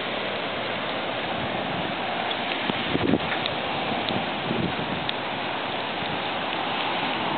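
Steady rain falls over a flooded park beside a swollen creek, a continuous dense hiss with faint wind noise and no voices.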